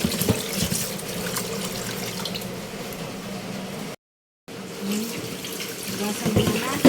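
Tap water runs steadily into a sink while raw chicken pieces are rinsed, with squishy splashing and handling sounds, a short gap midway, and faint talk in the background.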